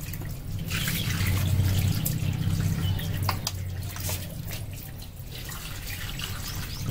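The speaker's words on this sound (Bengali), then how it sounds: "হালকা করে আমরা জল দিয়ে দেবো" Water is poured lightly onto a potted hibiscus plant, a continuous gentle splashing and trickling close by that eases slightly toward the end, with no talking.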